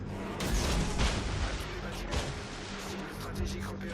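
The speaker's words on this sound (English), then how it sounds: "Send the torpedoes like that" A destroyer launches torpedoes in World of Warships Legends amid a barrage of booming gunfire and explosions, loud and continuous over about four seconds, with a voice talking over the battle.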